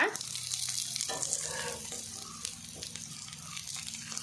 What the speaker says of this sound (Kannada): ಎಣ್ಣೆ ಬೆಚ್ಚ ಅನ್ನಗ ಒಂಜೊಂಜೆ ಪೀಸ್ ಪತ್ರೊಡ್ಡೆದ ಪಾಡ್ದು ಫ್ರೈ ಮಲ್ದೆ ತೊನ್ಗ